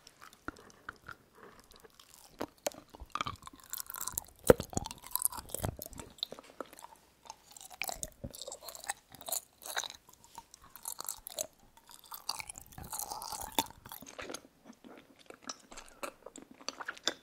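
Someone chews slightly frozen jeonggwa, Korean candied fruit, close to the mic: soft, sticky bites with occasional crisp crunches in an irregular rhythm, quiet and intimate with no talking.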